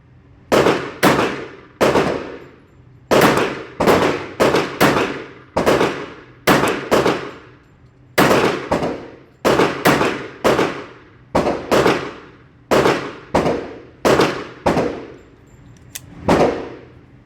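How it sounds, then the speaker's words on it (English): Sharp, loud pistol shots from a stainless steel Bul Armory SAS II Tac Commander in .45 ACP ring out at a shooting range, fired in quick bursts of two to four with short pauses between strings, each crack ending in a brief metallic ring. "Shooting much better on this second 100. All right, third magazine."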